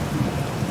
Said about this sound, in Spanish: el silencio era la única respuesta, interrumpido solo por el golpeteo de las gotas de lluvia sobre las hojas y el rugir de la